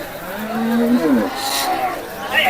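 Cattle at the Kalampur livestock market, a bull sale ahead of Eid sacrifice, give a single drawn-out moo that rises and bends, heard fairly close over a busy background hiss.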